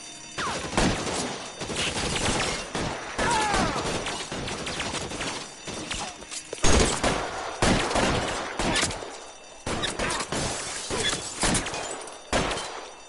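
Gunfire in the video game L.A. Noire: repeated loud bursts of shots in clusters, some rapid like automatic fire, with breaking and crashing impacts between them and no talk over the shooting.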